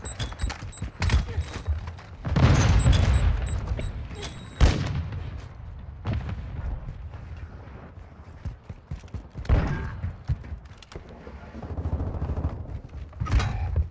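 Sharp sniper rifle cracks and gunfire punctuate a Call of Duty Modern Warfare 2 (2022) match on PC, several loud isolated shots and booms scattered through the clip, with players speaking in between.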